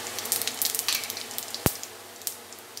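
Dry red chili and white cumin seeds tempering in hot oil in a kadai for rohu fish curry, a soft crackling sizzle with scattered pops and one sharp tap of metal.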